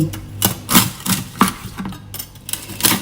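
A knife crunches through crispy pork belly crackling in a series of sharp, crackly cuts, close up, roughly one every half second.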